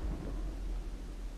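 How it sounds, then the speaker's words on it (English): Thunder rumbling in a Minecraft lightning storm, a low continuous roll with rain-like hiss, fairly faint and heard alone without talk. "Why is there lightning everywhere?"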